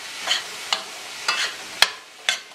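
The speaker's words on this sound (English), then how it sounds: "Stir it well, because you really want to get all that curry goodness from the bottom of the pot there." Curry with boiled pigeon peas being stirred in a pot, a spoon scraping the bottom in five or six evenly spaced strokes over a soft background sizzle, close and moderately loud.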